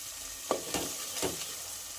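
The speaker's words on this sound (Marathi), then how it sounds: "तर 2 ते 3 मिनिटं छान असे मसाले फ्राय करून घेऊया।" Spice masala with Kashmiri red chilli powder frying in a pan for Kolhapuri misal, a soft continuous sizzle with a few quick stirring scrapes, faint and close.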